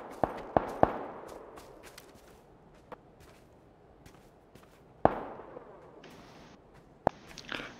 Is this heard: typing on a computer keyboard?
no